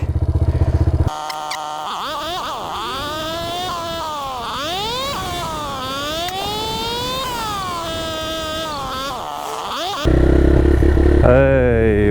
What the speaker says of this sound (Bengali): এই বাইক ধাক্কাইতে শুরু করে দিছে।